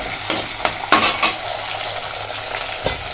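Onions and tomatoes sauté in a pan for a roasted fenugreek kuzhambu, a loud steady sizzle with a few sharp spoon scrapes and clinks against the pan as the mixture is stirred.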